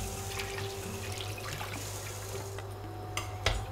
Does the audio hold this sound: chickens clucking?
no